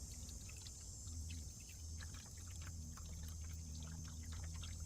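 Coolant pouring into a car radiator while bleeding air from the cooling system, a faint, steady liquid trickle with soft gurgling bubbles under a constant background hiss.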